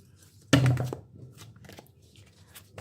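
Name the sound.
shuffling a deck of tarot cards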